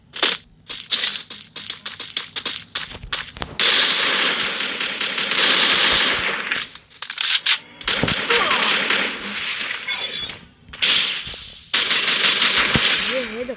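Loud, dense bursts of gunfire from the Free Fire mobile battle game, with rapid shots, impacts and a constant roaring backdrop, mixed with short quieter gaps and game effects.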